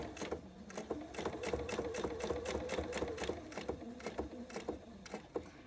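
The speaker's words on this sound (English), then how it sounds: "you're going to stop sewing when you get about 1/4 inch from the edge" A sewing machine runs steadily, stitching quilt binding toward the edge, a rapid mechanical whir with repeated needle clicks, close and alone, slowing with a few separate stitches near the end.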